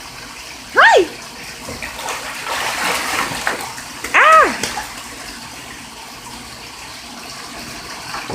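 A pet goose splashes water in a bathtub, with a steady wash of water and splashy bursts, while two short honking calls stand out over it.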